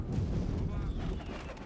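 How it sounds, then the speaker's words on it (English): A ballista fires at siege towers in the medieval kingdom game Yes Your Grace, giving heavy booming impacts and rumbling low thuds over a brief stretch, close and loud. "Get on the ballista. Destroy the siege towers."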